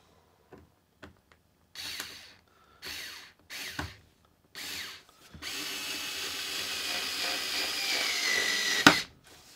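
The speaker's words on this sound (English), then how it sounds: "It drilled it in there pretty nicely." A Parkside Black & Gold drill driver whirs in several short bursts, then runs one long continuous drilling pass into a workpiece, ending with a sharp click; close and fairly loud with no talking.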